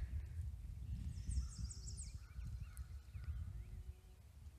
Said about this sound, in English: You hear the cows, the birds.